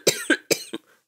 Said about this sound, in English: I'm sorry in advance for the coughing.